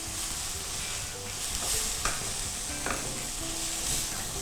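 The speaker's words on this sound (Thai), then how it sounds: "เดี๋ยวเราจะใส่วุ้นเส้นลงไปครับ แล้วก็ผัดให้เข้ากันนะครับ" Vegetables and glass noodles being stir-fried in a pan for Thai egg spring roll filling, a steady close sizzle with scraping stir strokes around the two- and three-second marks, no voices.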